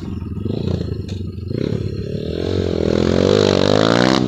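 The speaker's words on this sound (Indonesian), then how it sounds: "Motornya udah bisa digaspol biar agak berebet juga" A bored-up Kawasaki KLX 150 trail bike engine revs hard and close, its rising roar climbing in pitch and holding loud and steady through the final seconds.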